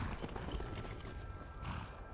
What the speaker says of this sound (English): Let me get off the horse for a second.